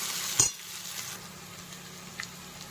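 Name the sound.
onion sautéing in a pan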